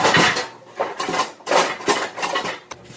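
Pots and pans rummaged through near a stove, metal cookware clanking and scraping in repeated bursts of rattling, close and fairly loud.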